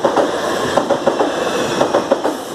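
A South Western Railway train rolls past the Grove Park level crossing in Chiswick, West London, loud and close, its wheels clacking in a steady rhythm over rail joints.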